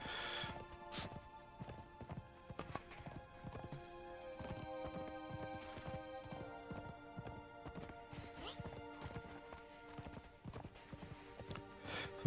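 A horse in the video game Conan Exiles trots with steady, close clip-clop hoofbeats and gives a neigh, while someone speaks over the steps.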